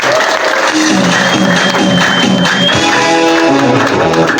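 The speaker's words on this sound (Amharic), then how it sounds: "ደስ ያላችሁ ሰዎች አጨብጭቡ ለኢየሱስ።" A church congregation at a deliverance service claps loudly and continuously, a dense wall of applause with tonal music or singing running underneath.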